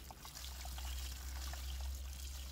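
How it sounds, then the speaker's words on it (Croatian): Water is poured over cabbage in a barrel, a soft continuous trickle and splash under a low background rumble, faint and steady throughout. "Sljedeći korak je dodavanje vode preko kupusa"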